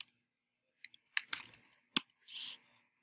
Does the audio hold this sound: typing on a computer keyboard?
yes